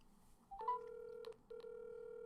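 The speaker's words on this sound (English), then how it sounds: "you're about to get a phone call" A phone line is dialed to place a call. Short tones come first, then a steady ringback tone in two long pulses, faint and clear with no talking.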